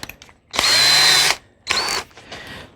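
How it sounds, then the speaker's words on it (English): A power drill bores out a rivet with a 3/16 bit while fitting accessory track on a Pelican Catch 100 kayak, giving two loud, close whining bursts, the first about a second long and the second shorter, with no talk. "So I'll drill the one here."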